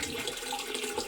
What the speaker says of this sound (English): So the water's running hot.